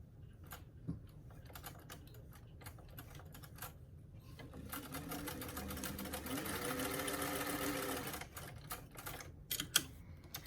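A sewing machine runs a straight stitch at 2.5 length in one continuous burst of several seconds, stitching a dart in a doll coat, framed by scattered clicks and handling noises in a quiet room.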